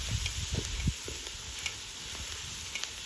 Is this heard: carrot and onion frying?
yes